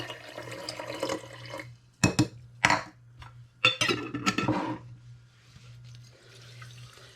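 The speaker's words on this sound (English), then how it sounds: "And again, 1/2 cup of water." Half a cup of water is poured over mustard seeds to soak, heard as a few close bursts of splashing and trickling between quieter moments, with light clinks and a low steady hum underneath, no voices.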